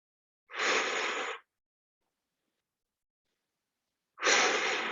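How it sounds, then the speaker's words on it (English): Two long, breathy exhalations during a plank core exercise, each about a second long and close to the microphone, separated by near silence with no talking. "We're taking a few breaths"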